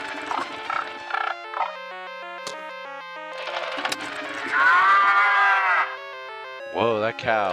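Electronic toy playing a synthetic cow moo, a long buzzy bellow recorded nearby with tinny speaker tones, accompanied by short electronic chimes and brief talk during a variety gaming night.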